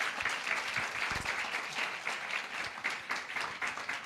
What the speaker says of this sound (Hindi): आइए पास्टर आशीष नंदेश्वर का, जवान बेटे का, इस वेदी पर ताली बजाकर हम स्वागत करने पाए